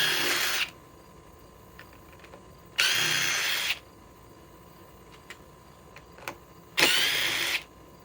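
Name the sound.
DeWalt XR DCF 860 impact driver driving fasteners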